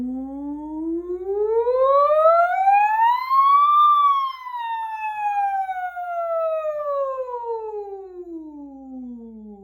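A singer's voice imitates a siren on an "oo" vowel, one smooth glide rising to a peak and sliding back down over nearly ten seconds. The tone is clear and sustained, with rich overtones, and nothing else is heard.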